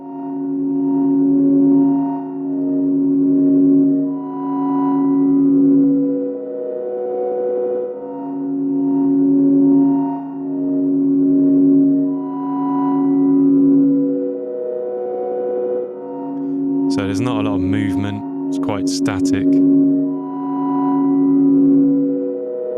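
Sustained synth drone chords swell and fade in slow, overlapping waves, with a brief burst of glitchy, chirping noise partway through.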